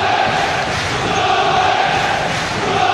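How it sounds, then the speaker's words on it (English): A vocal, passionate football crowd at Fratton Park during a Portsmouth versus Manchester United match roars loudly and steadily throughout, a dense wall of massed voices with no break. "Great noise inside Fratton Park as ever. They really are a vocal, passionate crowd here."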